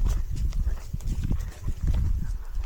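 A pony walks along with a steady clip-clop of hooves close by, the thuds coming in a continuous rhythm with no talking over them.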